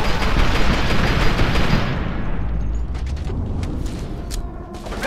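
Heavy rapid gunfire in the video game F.E.A.R. 2, including an APC-mounted gun, rattles loudly and continuously, then thins into scattered shots and mechanical clatter.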